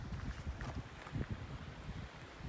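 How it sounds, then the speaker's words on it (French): Strong gusting wind during a storm on a hike along the Célé variant trail, rumbling low against the microphone in uneven buffets, fairly quiet overall with no talking. "surtout il y a pas mal de vent"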